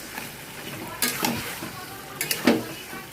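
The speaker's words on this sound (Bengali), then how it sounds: "এটা দিয়ে আমি অনেকক্ষণ ধরে ভালো করে নেড়ে চেড়ে কষিয়ে নেব।" Marinated chicken fries in a pan with a constant sizzle, as a spoon stirs and scrapes in bursts, making a few loud, close clatters against the metal.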